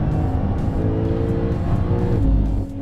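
A Porsche 911 Turbo S accelerating hard on a race track, with a loud, dense engine roar and whirring drivetrain tones climbing steadily, heavy low rumble swelling near the end before easing slightly.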